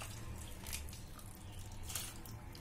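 Cold water trickles and drips over freshly split curdled milk being strained for Bengali sandesh, a faint wet splashing with a couple of brighter splatter bursts and no talk.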